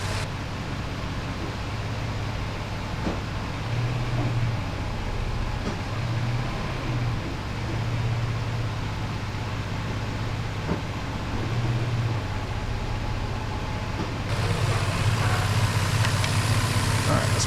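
A Nissan Xterra engine idles steadily while the transmission is shifted through its gears, a continuous low rumble with slight changes in load and a rise in level near the end.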